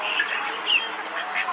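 Ducks and chickens calling at a pet farm in Naripparambu, a busy cluster of squawks and chirps overlapping throughout, moderately near with no speech.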